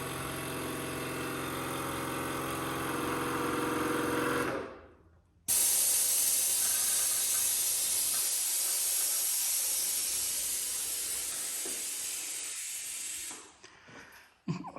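Air suspension on a Harley-Davidson Road King pumps up with a bright, steady hiss, cutting off for about a second midway and then resuming before tapering off near the end.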